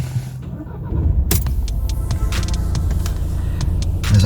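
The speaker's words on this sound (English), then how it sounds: "Just going to start the car up." A Mercedes C-Class with an AdBlue fault is started up, a click and clatter giving way to a steady low engine rumble that continues alone to the end.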